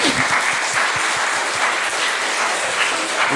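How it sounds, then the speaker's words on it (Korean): A church congregation at a Korean Sunday worship service in Daejeon claps together in dense, steady applause that fills the room and holds at an even level throughout. "박수 한번 합시다."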